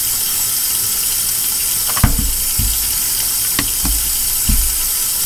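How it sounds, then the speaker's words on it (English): Hot water running from an apartment tap into a sink during a maintenance leak check: a steady, close rush of flowing water with a few low knocks and thumps under it, no voices. "And then we'll run some hot water in there."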